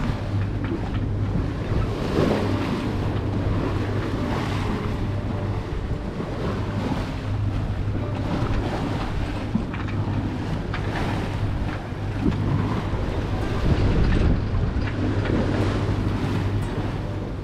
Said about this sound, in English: Hopefully that'll give us a better angle on these sloppy waves.